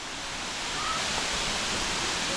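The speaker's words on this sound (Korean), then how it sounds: "오 폭포수 장난 아니네" Steady, dense rushing of a waterfall on Koh Samui, Thailand roars continuously, a full broadband wash with no breaks and no voices.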